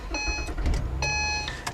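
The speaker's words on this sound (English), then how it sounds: "push the red button to start the engine" A 2014 Acura TL started with a push button: two short electronic chimes a second apart over a low idle rumble and cabin noise, with faint clicks around them.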